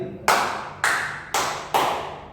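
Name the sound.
audience clapping hands in a counted pattern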